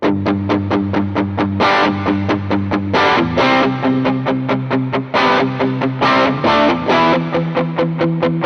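Electric guitar through an original Ibanez TS808 Tube Screamer pedal plays a loud, driven riff of rapid palm-muted chugs broken up by ringing sustained chords, overdriven and close, with no talking.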